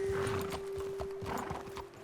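A horse whinnies and its hooves clop in Red Dead Redemption 2, one steady tone running under a few nearby hoof strikes for about two seconds.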